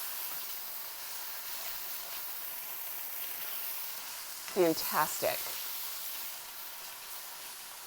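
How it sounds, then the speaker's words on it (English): Crushed tomatoes for shakshuka sizzling in a hot pan, a steady low hiss running throughout while a voice briefly speaks over it near the middle. "I can hear that sizzling."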